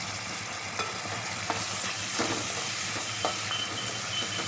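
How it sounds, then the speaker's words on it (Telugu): A spoonful of fresh ginger garlic paste sizzles and fries in a pan for tomato gongura curry, with a steady hiss and occasional stirring scrapes close by, and no one speaking. "అల్లం వెల్లుల్లి పేస్ట్ 1 స్పూన్ వేసుకోవాలి. పచ్చి వాసన పోయే వరకు వేయించుకోవాలి."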